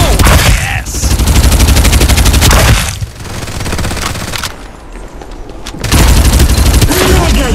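Rapid automatic gunfire and explosive booms from the battle-royale shooter game Farlight 84, loud and dense in two long bursts separated by a quieter lull, with game voice callouts mixed in.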